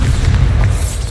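A Bombarda blasting spell goes off in the Hogwarts Legacy video game as a short, heavy boom with a deep rumbling low end that fills the whole second without letting up.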